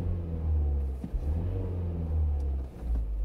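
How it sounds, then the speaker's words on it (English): Volvo V40 with a 2.0 diesel engine revving steadily, a loud, close, sustained low engine rumble with a brief dip midway and no talking. "Obviously it's revving up now."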